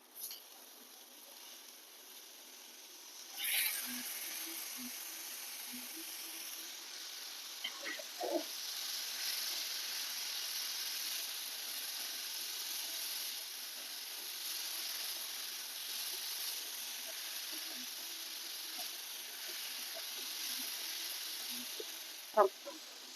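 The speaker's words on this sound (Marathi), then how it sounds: "आता आपण ही दोन मटकी घेतलेली याच्यात टाकतोय" Sprouted moth beans dropped into green masala in a pan, with a sudden rise into a steady soft sizzle that carries on, broken by a few light stirring knocks.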